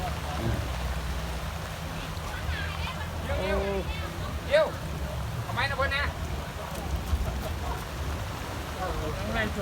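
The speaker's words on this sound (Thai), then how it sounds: "โอ้ยฝนตกพี่น้องฝนตก" Heavy rain pours steadily around a Thai mor lam troupe, a dense unbroken hiss running the whole time while several people talk and call out over it.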